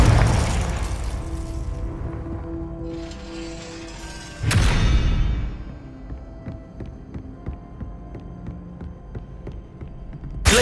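Explosive Confringo spell blasts in the Hogwarts Legacy video game: a deep booming burst at the start and another loud blast midway, each rumbling out, followed by quieter clicking game effects.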